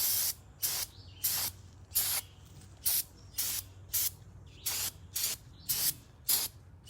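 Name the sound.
spraying down an AR-15 rifle to remove oils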